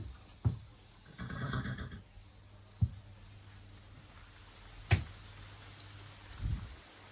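A horse whinnies somewhat faintly amid quiet surroundings, with a few sharp knocks and hoof thuds scattered through the clip.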